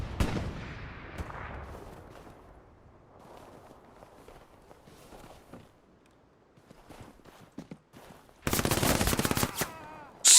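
Automatic PPSh submachine gun fire in the Hell Let Loose video game, trench combat at Kharkov: scattered distant shots and footsteps give way to a loud, sustained close burst near the end.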